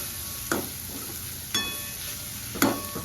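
Maggi noodles being stirred together with masala in a pan: three sharp scraping clinks of the spoon against the pan, spaced about a second apart, over a soft steady sizzle.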